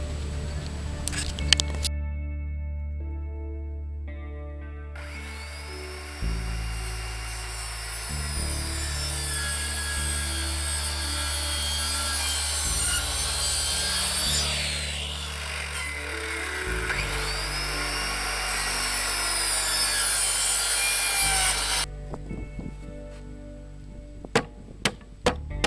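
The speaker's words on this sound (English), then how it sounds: "I'm going to use the circular saw to cut several passes through" A circular saw makes repeated passes through wood to cut lap joints for a picnic table, with a loud sustained whine and cutting rasp, the motor spinning up at the start and winding down at the end.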